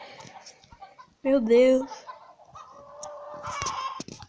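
Cartoon chickens in the mobile farming game Egg, Inc. give a burst of honking, squawky clucks, loud for about a second, followed by softer game sounds while someone talks in between.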